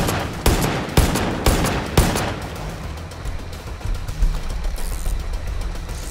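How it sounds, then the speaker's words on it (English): Shotgun fire in Far Cry 5: four sharp, loud blasts roughly half a second apart, then a rumbling mix of fainter distant gunfire and game noise, with no talk. "I'm getting fucking sniped with a shotgun"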